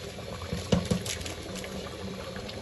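A pot of rice and lentils steams on dum with lid sealed, giving a steady soft bubbling hiss with a few brief louder pops and clicks near the start, close and continuous, no talking.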